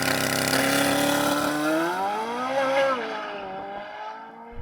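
A Corvette Z06 with a naturally aspirated V8 launches hard for a timed run, its engine note climbing loud and continuous through rising revs, then easing off as it pulls away.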